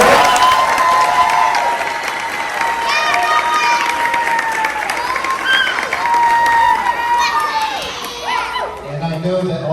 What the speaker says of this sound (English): How about one more round of applause for the children?